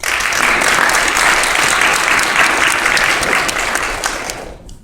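Audience applause at a read-in event, a dense steady wash of clapping hands from a crowd that holds for several seconds and then fades out.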